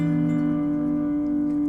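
Slide guitar in open E tuning sustains a held, ringing chord with a steady buzzing tone for under two seconds, close and alone with no talk.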